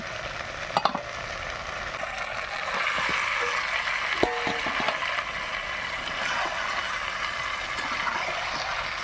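Chicken masala with chopped tomato frying in a pan: a steady loud sizzle and crackle throughout, with a few clinks of a spoon or utensil near the start and middle.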